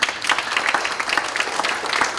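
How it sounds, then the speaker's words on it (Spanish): Audience applause at a Spanish-language motivational book talk, a dense, steady wash of many hands clapping close by, sustained for the whole stretch without talk. "Un aplauso para Reina, por favor."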